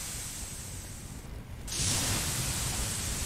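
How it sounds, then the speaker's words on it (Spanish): A fire extinguisher sprays in a firefighting simulator game as a steady broadband hiss, first moderate and then louder and fuller from about midway, continuing without a break. "creo que es el extintor que suena así."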